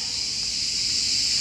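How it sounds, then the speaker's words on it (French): Continuous high-pitched buzzing drone of cicadas, steady and unbroken, with no voices. "Elles dorment pas, ces cigales."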